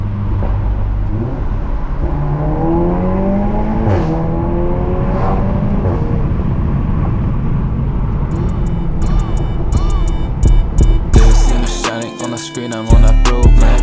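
A VW Golf 7.5 R with an Akrapovic exhaust drives along, its loud continuous engine drone heard from inside the car as the revs rise and fall, with a harsher burst near the end.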